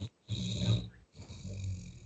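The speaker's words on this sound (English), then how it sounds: "I don't know who is snoring." Someone snores nearby in two long, rough breaths separated by short pauses, faint and low, with no talk over it.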